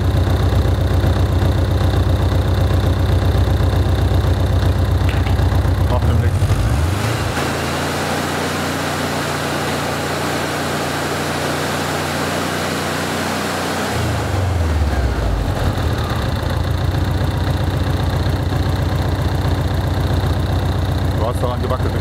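A Mexican-built VW Beetle's air-cooled engine idles close by; midway the exhaust is held shut and the tone turns muffled and strained with a lower, steadier drone, then opens back to its normal idle, with no talk heard.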